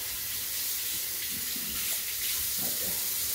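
Tap water runs steadily into a kitchen sink, a continuous close splashing hiss that holds even for the whole stretch with no voices.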